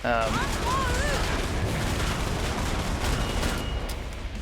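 Rapid, dense gunfire from Killing Floor 2 pours on a boss, loud and continuous throughout, with a brief voice-like sound near the start.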